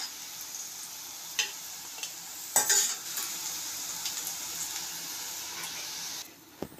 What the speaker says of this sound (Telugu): ఇలా బ్రౌన్ కలర్ వచ్చే వరకు వేయించుకోవాలి,